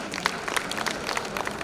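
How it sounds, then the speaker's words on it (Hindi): Audience at a national OBC convention in New Delhi clapping to welcome a speaker on stage, quick scattered claps blending into moderate, steady applause. "हमारे शब्बीर भाई अंसारी का हम ताली बजाकर स्वागत करेंगे"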